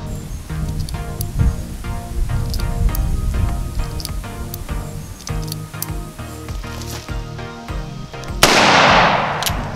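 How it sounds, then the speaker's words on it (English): Uberti 1873 Cattleman revolver firing, a string of sharp reports at uneven intervals outdoors, followed by a loud burst of noisy hiss at the end. "load six more in, and we'll shoot again"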